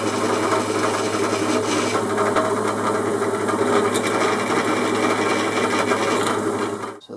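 A power drill bores holes through metal for self-tapping screws in a workshop, a steady, loud, continuous whirring grind that runs unbroken for several seconds before cutting off at the end.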